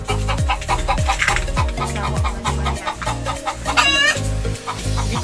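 A hen clucks repeatedly in loud, close, rhythmic bursts, rising to an excited cackle near the end, the way a laying hen calls after producing an egg.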